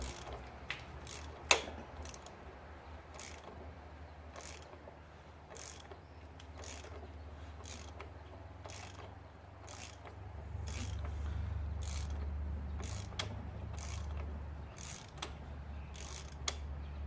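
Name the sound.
ratchet loosening 27mm fitting during oil change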